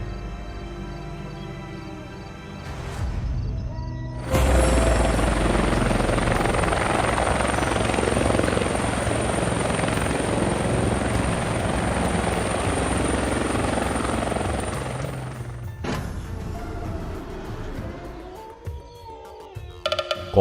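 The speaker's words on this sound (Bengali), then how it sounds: "আমার ভৌতিক হেলিকপ্টার খুব দ্রুত পৌঁছবে।" A cartoon helicopter flies past with a loud, continuous rotor whirr that starts abruptly and holds steady for about eleven seconds before cutting off, with quieter sounds before and after.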